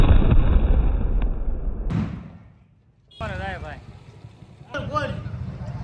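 A Diwali firecracker bomb bursts as a loud, dense blast that decays over about two seconds into quiet, followed by people talking nearby.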